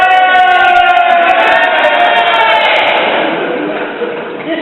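A stand-up comedy crowd at a talent show lets out a loud, sustained cheer and whoops, filling the room for several seconds before gradually tapering off.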